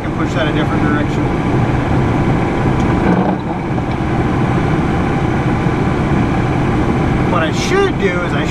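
Steady loud drone of a tractor engine running while pushing snow, heard from inside the cab, a continuous even rumble with a slight shift partway through.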